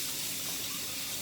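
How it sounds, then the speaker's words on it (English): Warm water runs steadily from a kitchen sink tap while mushrooms are cleaned, a close, even gushing stream with no voices. "you can hear the water"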